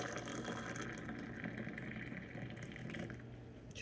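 Boiling water pours steadily into a plastic water bottle, a continuous close-up stream of liquid filling the container without a break.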